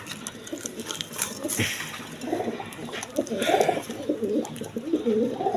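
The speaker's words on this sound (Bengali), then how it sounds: "এখানে এক পেয়ার ইন্ডিয়ান কালদম কবুতর আছে দেখেন" A pair of Indian Kaldom pigeons coo in short throaty bursts, close by, amid rustling, scuffling and background noise, with possible faint voices.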